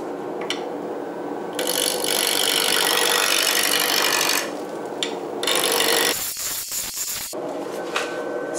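A square wooden wand blank spinning on a lathe as a chisel rounds off its corners, making loud continuous rasping and scraping cuts in long bursts with brief pauses between them.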